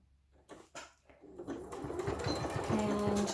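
A sewing machine stitches a patchwork pot holder along a quarter-inch presser-foot mark, its motor starting up after a few soft clicks and building into a steady, close, continuous whirring hum.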